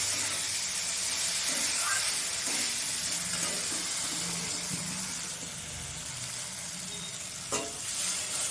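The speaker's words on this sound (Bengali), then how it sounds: "এবার আমি জল দিয়ে দেবো।" Water poured into a hot pan of sautéed Bengali fish curry masala, a steady loud sizzle and bubbling hiss with soft stirring scrapes, no voice over it.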